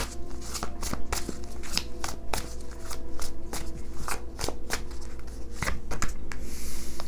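Tarot cards handled and laid out on a surface, with crisp repeated slaps and flicks at an irregular rhythm, close and moderately loud over a low steady hum.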